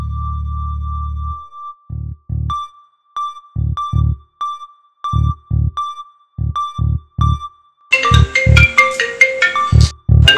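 A phone ringtone plays close by, a repeating electronic melody of short evenly spaced beeps that grows busier and louder toward the end.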